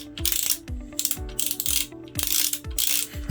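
A Shimano SpeedMaster 14000XSC fishing reel with its spool off gives loud, close ratchet clicking. Fast metallic clicks come in repeated bursts, each with a low thump as the mechanism turns.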